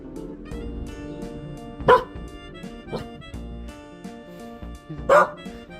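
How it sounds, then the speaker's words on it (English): A dog named Luna barks at a balloon, two sharp barks several seconds apart plus a smaller yip, close by over a quiet indoor background with faint talk. "she's barking at the balloon"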